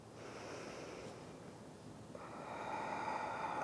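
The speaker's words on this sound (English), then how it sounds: "Taking 2 breaths here." Slow, steady breathing during a yoga bridge pose, a soft airy inhale and exhale with a brief nasal sniff, close and quiet, growing slightly fuller toward the end with no talk.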